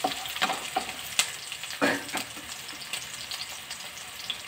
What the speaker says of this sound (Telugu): పచ్చిమిర్చి ఒక 2-3 పచ్చిమిర్చి కూడా వేసుకోవాలి.